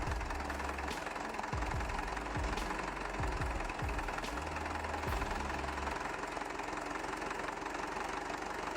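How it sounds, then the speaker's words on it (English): A tractor engine labours under load while hauling logs through mud, a steady low thrumming drone with knocking pulses and occasional surges, faint and distant under a constant broadband hiss. "Exhaust smoke and engine sound reflect the increased workload"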